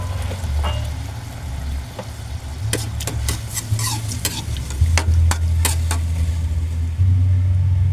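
Broth poured into a pan of simmering milkfish cooked with fermented black beans, a steady sizzling bubble under a low rumble, with sharp clinks of a utensil against the pan toward the end.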